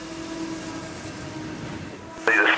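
A CSX Q541 manifest freight train passes nearby, its rumble and wheel noise steady and close for a couple of seconds before a sharper, brighter burst at the end.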